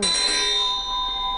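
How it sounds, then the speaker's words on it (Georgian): A hand-held bell rung once, a bright metallic ring that rings on and slowly fades, heard alone and fairly close. "რაღაცა საინტერესო ზარი უჭირავს ხელში."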